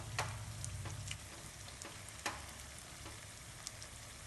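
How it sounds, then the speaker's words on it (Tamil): Bungalow palagaram batter frying in a pan with a soft, steady sizzle and scattered crackling pops, close and quiet with no voices. "ஒன் சைடு வேகவும் அடுத்த சைடு திருப்பி விட்டுக்கோங்க."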